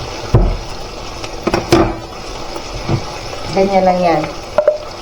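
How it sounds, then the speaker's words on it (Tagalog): Pork chop frying in hot, splattering oil in a home kitchen, with crackling bursts and a spitting sizzle close by, interrupted by brief clanks and a person speaking. "Kaya doon tayo kasi tumatalsik yung mantika."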